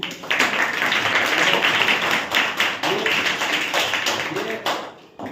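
Schoolchildren in a maths class clap together on cue, a dense, steady patter of hands filling the room for several seconds before breaking off near the end.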